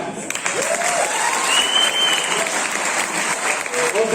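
Enthusiastic applause from a small crowd for a newly married groom in Jammu and Kashmir, steady clapping lasting several seconds with some cheering mixed in.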